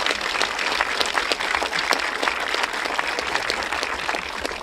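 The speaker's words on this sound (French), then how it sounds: "qu'il y a une grosse main d'applaudissements aux bénévoles" An audience at the opening ceremony of a regional games gives volunteers a sustained round of applause, dense and loud, with many overlapping claps continuing steadily throughout.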